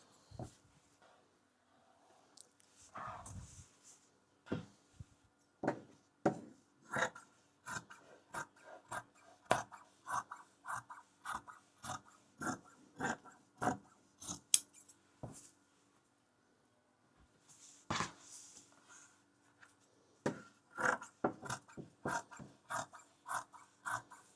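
Scissors or a rotary cutter trimming excess quilt fabric on a cutting mat, a long run of quiet, close, rhythmic cutting strokes with short pauses, rasping and snipping through cloth.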